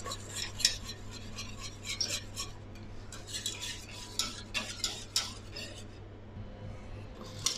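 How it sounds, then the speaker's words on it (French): Pastry cream being stirred in a pan as it thickens for a pear tart, with repeated scraping and clinking of a utensil against the pan over a steady low hum, close and moderately loud. "Et on remue jusqu'à l'épaississement total de la crème pâtissière."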